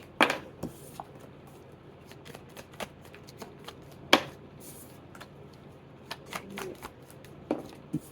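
Tarot cards being shuffled and drawn by hand, heard as a series of quick, crisp card snaps and riffles spread through a quiet room, with brief soft speech.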